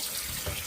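Rinse water from washed raw Karakul wool drains away in a steady, soft wash of running water, fairly faint and even throughout the brief moment, with no voices.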